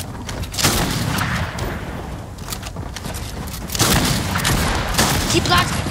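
Gunfire in the block-building shooter Floors Lava, a dense stream of shots and booms that swells louder around the middle and again near the end, with players talking over it throughout.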